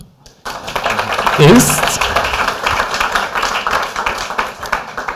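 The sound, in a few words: applause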